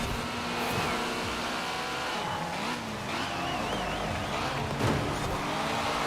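Toyota Celica GT-Four RC ST185 engine racing in Forza Horizon 4, revving steadily and loud with shifting pitch through gear changes, with brief tire squeal, heard alone without talk.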